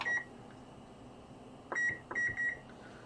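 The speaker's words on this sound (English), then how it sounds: "I'm going to set a timer" A kitchen timer being set while food-coloring dye pots heat on a stovetop for dip-dyeing yarn, giving one short beep, then a brief pause and a cluster of three quick electronic beeps, clear and close.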